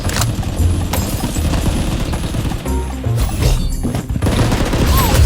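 Blood Strike gunfire on PC: loud, rapid bursts of automatic shots crackle close by, with sharp impacts and short gaps between volleys.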